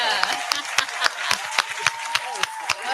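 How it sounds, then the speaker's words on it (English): Hands clap for a woman guest on a podcast, sharp regular claps close to the microphone with a voice talking over them. "I got to clap for you, sis"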